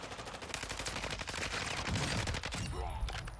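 Gunfire in the Warzone video game crackles in rapid overlapping bursts, several weapons firing at once in a dense fusillade, moderately loud, with no speech over it.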